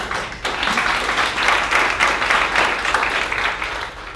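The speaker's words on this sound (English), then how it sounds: "So in appreciating those applause very much" Audience applause at a Tennessee event on becoming a trauma-informed state, a dense, even patter of many hands clapping that swells after a brief start and holds steady throughout.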